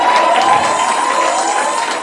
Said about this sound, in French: Est-ce qu'on peut applaudir pour maman